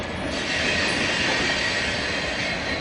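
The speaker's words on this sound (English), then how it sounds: "Speeds up as it flees from me. Bye-bye, train." An alien train speeds away, a loud, steady rolling rumble with squealing wheels that holds throughout, close and alone without voices.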